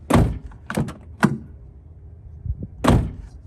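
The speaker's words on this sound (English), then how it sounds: "So let's close the door." A Toyota FJ Cruiser door being worked and shut, a series of solid thunks and latch clunks, close and loud, with quieter handling noise between.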